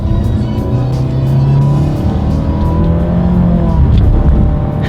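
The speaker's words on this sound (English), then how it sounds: "Let's do a quick little acceleration in this one and see how quickly we can get the new 2018 Altima here up to speed" A 2018 Nissan Altima with a 2.5-liter engine and CVT accelerates, its steady droning engine note rising smoothly from inside the cabin without distinct gear shifts.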